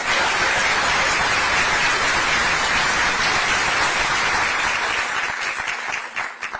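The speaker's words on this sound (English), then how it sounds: "Let's give her a big round of applause." An audience at a street homelessness summit gives sustained, loud applause for a guest representing the governor, a dense wash of clapping that holds steady before thinning out at the end.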